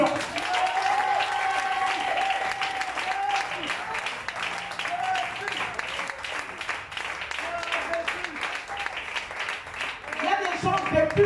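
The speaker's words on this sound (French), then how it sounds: "Ce Dieu-là mérite une acclamation." A church congregation applauds in a sustained wash of clapping that holds steady and fills the space, with voices and cheers mixed in and rising again toward the end.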